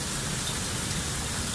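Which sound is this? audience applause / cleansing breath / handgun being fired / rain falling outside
rain falling outside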